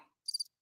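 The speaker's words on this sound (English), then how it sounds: "I got crickets here, right?" A short burst of cricket chirps, a few rapid pulsing trills, played as a sound effect after a brief snatch of sound at the start, then silence.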